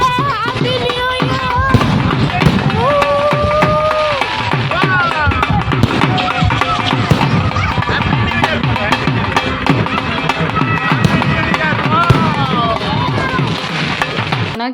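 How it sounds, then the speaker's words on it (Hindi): New Year fireworks and firecrackers bursting at a Rajasthani village-themed venue in Nagpur, a dense, continuous crackle of pops and thuds over fifteen seconds, mixed with crowd noise, music and voices throughout. "तो ये देखिए यहाँ पे पटाखे फूटने लगे और हैप्पी न्यू ईयर शुरू हो गया।"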